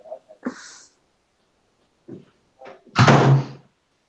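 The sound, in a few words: door being shut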